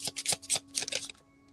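A deck of cards being shuffled for a reading, a quick run of close riffling bursts with light papery flutters, quiet and dying away after about a second.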